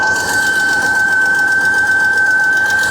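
Steady loud mechanical whine and whirring from the engine belts of an abandoned 2001 BMW 325xi E46 being started, a continuous high-pitched tone over a churning, rattling engine that runs unbroken throughout.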